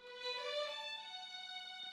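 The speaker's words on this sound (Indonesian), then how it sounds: "Nah, ini kan suara kayak suara string" A boosted, ringing string layer in a mix for a song, with bright sustained harmonic tones that shimmer steadily for about two seconds, heard alone without any talking.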